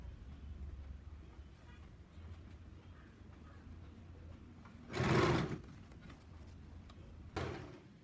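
A sewing machine stitches along a fabric edge for embroidered hand designs, a low steady mechanical whir running throughout with two louder bursts of activity near the end.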